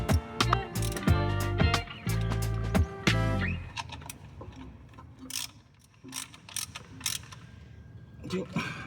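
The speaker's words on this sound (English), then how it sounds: "I need to torque those 3 bolts off." A ratchet wrench works on the shifter plate bolts of a 2014 Mazda 3 BM during a short shifter install, giving rapid, loud, close metallic clicking bursts in the first half, then quieter, sparser clicks and handling noises.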